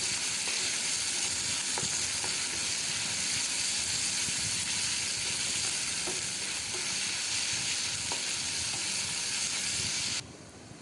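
Ginger garlic paste frying in a pan for a restaurant-style dal fry, giving a loud, constant hiss and sizzle with faint stirring taps, which drops away abruptly near the end; no talking.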